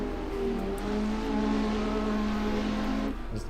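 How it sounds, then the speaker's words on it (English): Pace car at the Mid-Ohio race track drives with a steady engine drone at a constant pitch, fairly close, then eases off near the end. "As the pace car is coming to the pits now."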